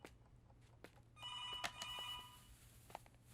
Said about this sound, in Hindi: Maithili, call for you